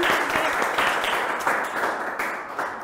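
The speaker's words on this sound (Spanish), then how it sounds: "un aplauso para ti" Applause from a studio audience on a Colombian tribute program, steady dense clapping throughout with no voices over it.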